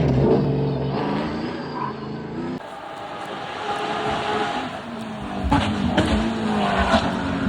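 GT3 and Super V8 race cars, including Lamborghini, Ferrari, Porsche and McLaren models, roar past at a Costa Rica track, with loud engines revving, shifting and fading throughout, and no talk.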